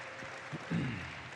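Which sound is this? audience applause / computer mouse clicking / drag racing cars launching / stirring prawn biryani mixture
audience applause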